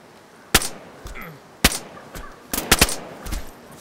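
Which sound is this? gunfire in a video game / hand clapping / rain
gunfire in a video game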